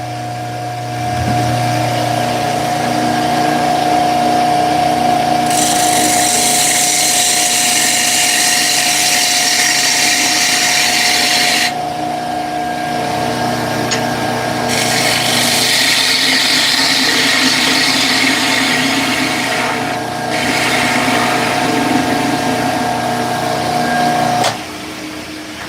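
Woodturning lathe turning a small finger bowl while a sharpened bowl gouge cuts it, producing a steady motor hum with loud hissing bursts of scraping that start and stop as the tool engages the wood.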